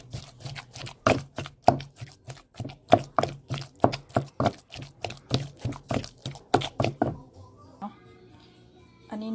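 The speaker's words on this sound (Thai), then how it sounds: "กุ้งใส่ไปนี่แล้วก็ตำเนาะ" Shrimp pounded in a mortar with eggplant, greens and garlic for Lao shrimp larb, a steady run of sharp, close thuds about twice a second that stops near the end, leaving quiet.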